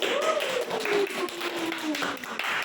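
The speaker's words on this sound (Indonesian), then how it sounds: "Tepuk tangan kepada temennya Yuni, ayo." Scattered hand clapping from a small group of students in a classroom, irregular claps running steadily at moderate loudness with a faint voice drifting underneath.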